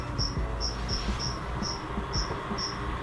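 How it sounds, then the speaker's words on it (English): A cricket chirps in short, evenly spaced high bursts, about eight over three seconds, fairly steady against a low background hum at night indoors where screen printing work is being done. "There's a cricket somewhere."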